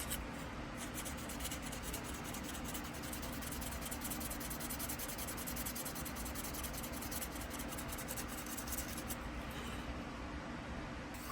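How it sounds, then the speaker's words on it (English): Fine 320 grit sandpaper rubs steadily across a workpiece, a faint, continuous dry scratching hiss with an even back-and-forth texture and no talking. "320 grit, just to get the initial shape of everything. Get all the excess sanded away."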